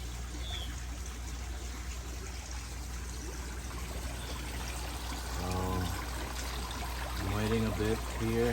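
Water overflowing through a bell siphon in a crayfish pond makes a steady pouring, trickling stream throughout, with someone talking over it in bursts.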